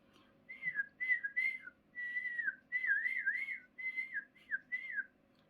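On a Hallasan mountain hiking trail, a person whistles a short, wavering tune in several bright phrases with brief pauses, alone against a faint low hum.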